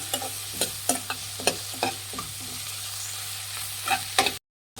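Tomato frying in a pan for shavige uppittu, with repeated rhythmic scrapes of a spoon stirring over a low sizzle, close, then a brief drop to silence near the end.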